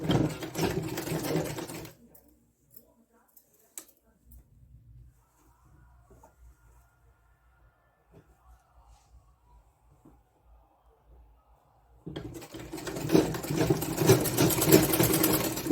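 A sewing machine stitches a lined blouse in a busy burst of whirring at the start, goes quiet with faint handling sounds, then whirs loudly again near the end.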